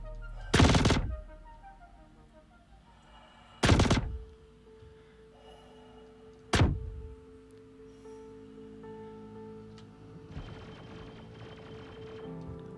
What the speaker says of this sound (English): my weapon is charging up like a railgun. And firing in bursts.